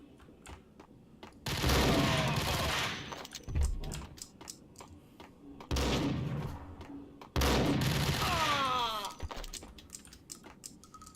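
Bursts of gunfire in the video game Max Payne, with several loud volleys of rapid shots separated by quieter stretches and a faint voice in the background.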